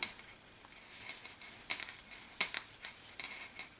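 Small plastic stitch markers clink and tick lightly in scattered bursts during crochet, a few sharper clicks standing out, close by with no talking.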